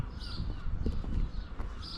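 A young seagull calls twice in a Cornish suburban street. The harsh, fairly close cries stand over low traffic and outdoor background noise.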